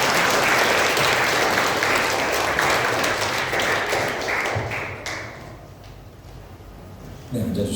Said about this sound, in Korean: 이 축복의 박수를 한 번 더 하겠습니다.